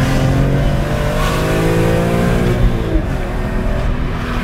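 A BMW M3 E46 engine revs loud and close inside the cabin during heel-and-toe downshifting, pitch climbing and dipping with throttle blips in a steady, continuous drone.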